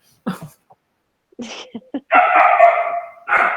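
A puppy yips and whimpers in short bursts, then breaks into a long, loud, high-pitched bark-like wail, close by with brief pauses between.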